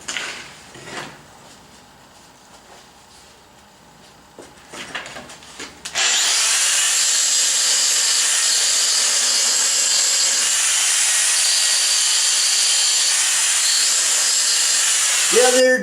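An angle grinder grinds a gray cast iron table being prepared for welding repair, a loud, steady, continuous high whine that starts abruptly after some quieter handling noises and runs without a break.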